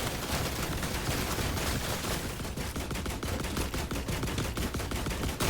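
Rapid gunfire in The Last Caretaker rattles out in a continuous dense volley of sharp shots, loud and close, with no voices over it.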